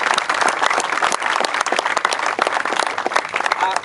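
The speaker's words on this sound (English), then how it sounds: "Would you give her another round of applause" A crowd at a school soccer field opening ceremony breaks into sustained applause, dense overlapping clapping that stays loud and even throughout.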